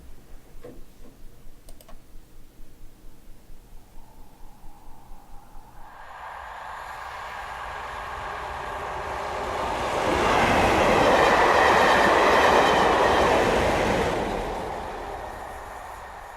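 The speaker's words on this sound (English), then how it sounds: "First I'll show you the one of the Class 37s passing" A Class 37 diesel locomotive and train pass across the tracks, building from a quiet ticking start into a loud, broad rumble with rail clatter that peaks mid-pass, then eases as it moves off to the right.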